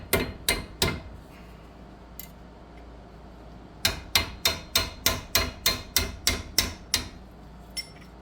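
Hammer striking a chisel on stuck front brake slide pins of a 2009 Nissan Versa: three sharp metallic blows, a pause, then a rapid steady run of about ten ringing strikes, close up.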